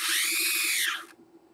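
A PI Q-845 SpaceFAB hexapod positioning stage shifting its axes gives a brief, steady electric whir with a faint hum that winds down and stops after about a second, heard alone and close.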